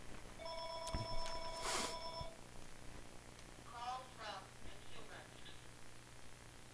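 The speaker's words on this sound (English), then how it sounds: "that's a phone ringing" A telephone bell rings in short bursts from across a room, fairly clear but in the background, followed by faint indistinct sounds and low room noise.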